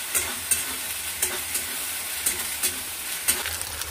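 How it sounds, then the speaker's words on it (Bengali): Chopped tomato stirred and fried in a pan with ginger, garlic and green chilli, a steady close sizzle broken by sharp scraping stirs every half second or so, with no talk. "এবার দিয়ে দেবো আমি কুচনো টমেটোটা দিয়ে আবার খানিকক্ষণ নেড়ে নেব।"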